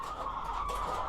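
Chickens in a crowded cage holding four or five birds, clucking steadily at close range over a constant background hum, with no voices.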